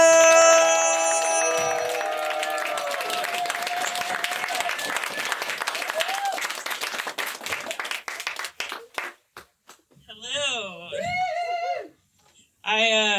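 A comedy club audience at Le Voyeur claps loudly and cheers as a comic is welcomed to the stage; dense applause that thins and fades away, followed by a voice speaking near the end.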